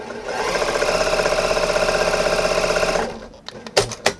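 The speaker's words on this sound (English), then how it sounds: "So I'm going to sew this scant" A sewing machine stitches a scant quarter-inch fabric seam in a steady, fast mechanical whir for about three seconds. It stops, and a few soft handling clicks and thumps follow.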